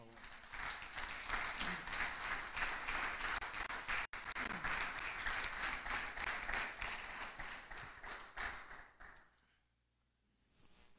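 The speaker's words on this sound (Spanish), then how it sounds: "Denle un aplauso al Señor, por favor." A church congregation applauds, with dense sustained clapping for about nine seconds that then fades into near silence.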